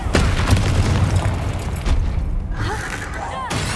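Confringo fire spell explosions in the video game Hogwarts Legacy, a run of loud booming blasts with crackling bursts, dense game combat noise throughout.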